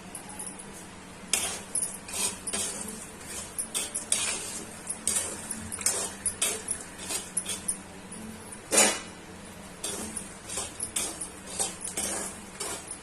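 Chickpeas being dry-roasted in a metal kadhai, rattling and clattering sharply against the pan as they are tossed, with repeated close, crisp bursts of gritty clinking throughout.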